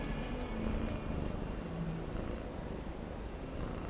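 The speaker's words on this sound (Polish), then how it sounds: "Pomruczysz im do mikrofonu?" A house cat purring close to a microphone, a steady low continuous rumble that runs through the whole stretch without pause.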